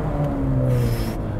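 A Ferrari 430 Scuderia's engine drones loudly from inside the car while driving, a steady low, tonal hum with a pitch that shifts slightly over a brief moment.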